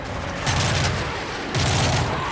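Two loud bursts of gunfire from Call of Duty: Modern Warfare 3, each a rumbling fusillade of close shots, separated by a brief lull.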